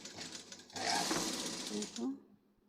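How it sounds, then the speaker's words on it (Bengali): A sewing machine double-stitching fabric, a quiet, rapid mechanical whir lasting about two seconds before stopping, with a person speaking over it. "আমি ডবল করে সেলাই দিয়ে নিলাম"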